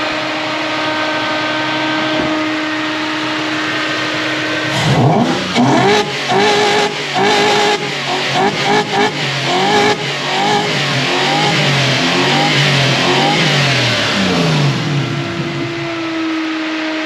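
A Toyota 1UZ V8 engine in a Surf with faulty coil wiring idles steadily, then revs up loudly in repeated bursts, rising and falling, close by, before settling back to an idle.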